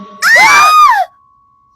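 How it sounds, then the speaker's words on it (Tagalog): A woman's terrified scream, about one second long, rises loud and shrill as it swells, then breaks off into near silence with a faint steady hum left underneath. "Takot na sigaw ng isang babae habang itinuturo sa kanilang bandang likuran."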